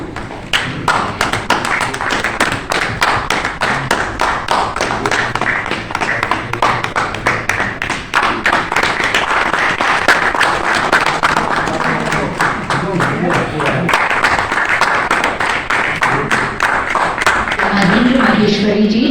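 An award ceremony audience claps steadily for nearly twenty seconds, a loud, sustained patter of many hands filling the hall without pause.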